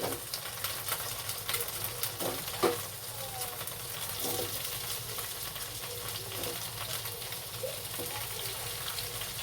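Potatoes dropped into hot oil with cumin in a pan for tangra fish kalia, a steady broadband sizzle of frying running throughout at moderate level, with a few brief clinks and stirring knocks.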